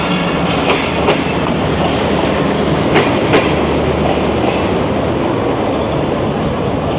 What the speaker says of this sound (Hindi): तो ये गई 37 अब फरीद एक्सप्रेस